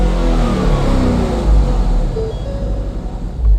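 A street muscle car engine revs loudly and up close, a deep continuous roar rising and swelling in bursts over a few seconds with no talk over it.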